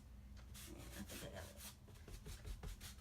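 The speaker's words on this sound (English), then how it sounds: "another lint-free rag and just dipped it in and went around like this" A lint-free rag wiped over a painted wooden farmhouse-style sign gives repeated soft scuffing strokes, close and fairly quiet, in an uneven rhythm with no talking.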